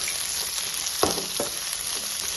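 Onion, chilli, peas and carrot fry in a pan with a steady hissing sizzle, and a spoon scrapes through the mix once or twice.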